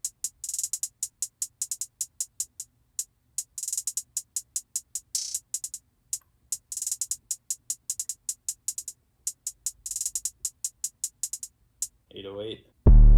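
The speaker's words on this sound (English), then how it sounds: "I feel like I went a little bit crazy on this hi-hat pattern" Rapid hi-hat one-shots from the Drum Demon 2 kit in a trap beat, busy and crisp, with fast rolls and stuttered bursts in a dense ticking pattern, ending in a short louder tonal swell.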